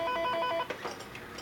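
A telephone rings faintly indoors for about half a second with a bright electronic chirp, and quiet room noise follows it.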